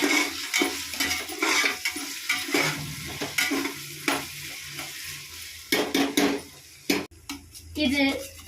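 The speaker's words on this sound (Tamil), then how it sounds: "இந்த மாதிரி நல்லா நீட்டாக வதங்கி வரணும்." Onions sauté in a pan with frequent stirring, sharp utensil scrapes and clanks over a light sizzle, while a person talks throughout.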